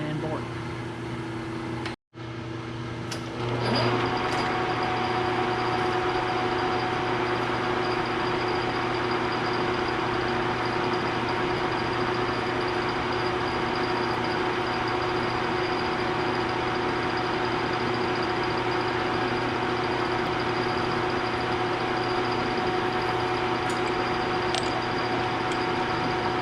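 A metal lathe spot drills and bores a workpiece with a steady, even mechanical hum and faint tonal whine. The hum runs unbroken after a short pause at the start.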